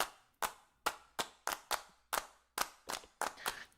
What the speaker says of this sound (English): I literally just recorded like seven takes of me clapping